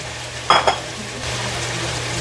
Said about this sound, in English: I think the next step is going to be adding in the onions